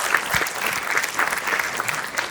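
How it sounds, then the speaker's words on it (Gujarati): An audience at a Gujarati comedy show applauds to welcome a performer on stage, a dense burst of steady clapping lasting a couple of seconds with no voices standing out. "So with a huge round of applause, let's welcome on stage Shire."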